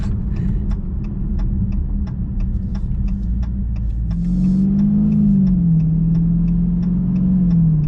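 A 2021 Dodge Challenger R/T Scat Pack idles with a deep, burbling rumble under faint regular ticks. The V8 then swells into a louder, rising rev that wavers and holds.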